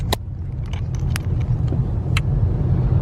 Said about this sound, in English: I gotta show you this traffic.